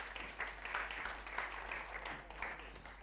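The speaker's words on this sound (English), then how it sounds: "Give him one last round of applause for coming up." Audience applause during a magic show at The Magic Circle, a steady, moderately loud wash of clapping from a crowd that continues throughout.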